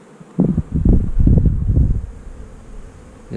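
Honey bees buzzing in an opened, weak hive division, a close, rising swell of low buzzing and rustling that peaks then settles into a softer hum.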